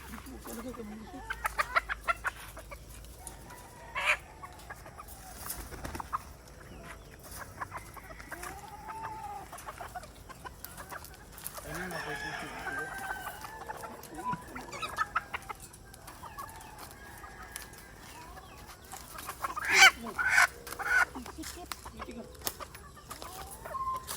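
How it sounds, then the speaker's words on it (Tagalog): A flock of purebred White Kelso chickens clucking and squawking in a free-range area, with scattered louder calls and rustling throughout, some faint voices in the background. "lahat po na nakikita nyo dito mga white chickens ay pure breed white kelso"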